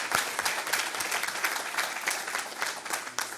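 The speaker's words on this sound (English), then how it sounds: "I think we just owe them a round of applause," Sustained applause from an audience at a community event, steady dense clapping with a few louder individual claps, filling the whole stretch without speech.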